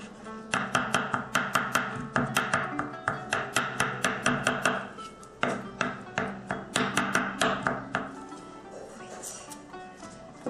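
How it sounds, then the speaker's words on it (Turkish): A knife finely chops a single garlic clove on a cutting board with rapid, even taps in two bursts, separated by a short pause, close and crisp. "Şimdi bir diş sarımsağımız var. Onu da çok ince bir şekilde doğrayalım."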